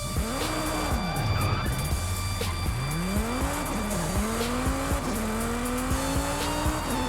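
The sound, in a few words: car engine and tire squeal, Forza Horizon 5 video game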